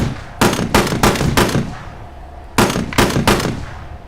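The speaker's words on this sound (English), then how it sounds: "let's shoot a few rounds there" Tank cannon fire in a video game: two volleys of about four loud, sharp blasts each, spaced evenly with brief rumbling tails between shots.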